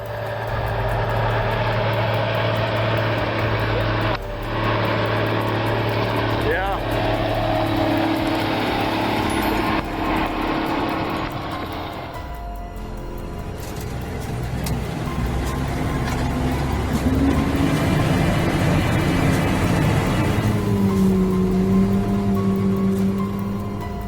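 Tractor engines roar at a tractor pull, a loud sustained drone that shifts pitch as the load changes, with a second engine note rising later, no voices heard.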